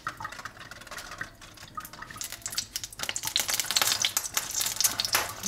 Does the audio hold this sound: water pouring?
yes